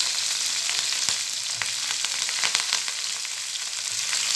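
Onion, green chili and curry leaves sauté in a pan for an ivy gourd stir-fry, giving a steady close sizzle with scattered crackles and pops throughout, no voices.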